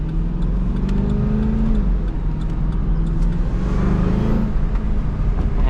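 A 600-horsepower supercharged Cadillac CTS-V cruises on a freeway, its engine droning steadily with wavering pitch as it accelerates and eases off, joined by a continuous supercharger whine and road noise, with no talk.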